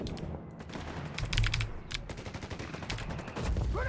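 Mortar blasts and rapid gunfire in the video game Company of Heroes 3, a dense cluster of sharp cracking bursts and bangs packed into a few seconds.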